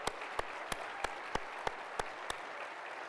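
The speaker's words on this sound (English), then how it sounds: "We want to applaud the great athletes, the great humans you have here." Audience members clap for finalists at an evening event, heard as about eight evenly spaced, sharp claps in a steady slow rhythm over a faint background hiss.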